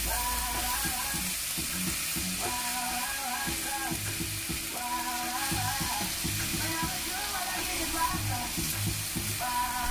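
A revisited cassoulet stirred in a pan, a continuous close sizzle with scraping and clattering spoon strokes repeating in a loose rhythm, with faint background sounds throughout.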